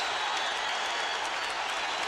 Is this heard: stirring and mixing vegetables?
no